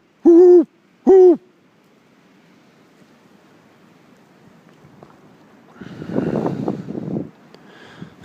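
A great horned owl gives two loud, close, deep hoots in quick succession, followed by quiet and then a burst of rustling noise.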